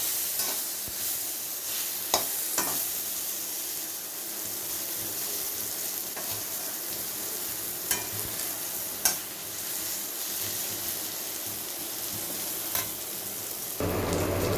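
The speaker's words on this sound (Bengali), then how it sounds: "হলুদ এবং লবণ দিয়ে আমি পটলটাকে ভেজে নিচ্ছি।" Chunks of pointed gourd frying in oil with turmeric and salt, a steady sizzle holding for about fourteen seconds with occasional scrapes and knocks of stirring, near and with no talking.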